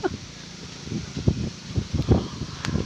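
Strong, cold wind gusts outdoors in Saudi Arabia, buffeting the microphone with a steady low rumble and repeated rough surges.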